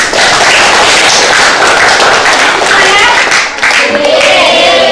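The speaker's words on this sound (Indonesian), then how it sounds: "Tepuk tangan dulu ya" Indonesian classroom students clapping together during a math lesson, a loud dense burst of many hands filling the whole span with brief voices mixed in.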